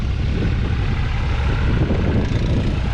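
Small two-wheel-drive tractor pulling a 6 m tine weeder (herse étrille) across a field, a loud continuous engine drone with rumbling low end, steady and close, no talk.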